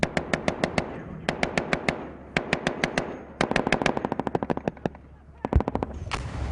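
Gunfire during a Taliban attack in Afghanistan: rapid bursts of loud automatic fire crackle in long rhythmic strings with short pauses, and a heavy thump lands near the end.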